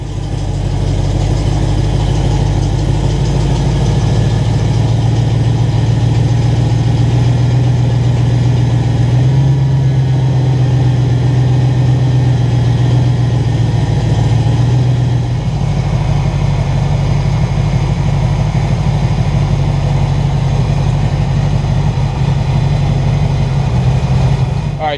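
A Foxbody Mustang V8 fitted with a freshly installed and timed MSD distributor idles steadily and loudly for the whole stretch, a deep, even rumble with a slight lift in pitch partway through.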